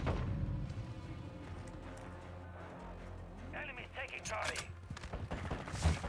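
Distant gunfire rattles in bursts during an online match of Modern Warfare 2 (2022), low and muffled beneath a player talking and background game sounds.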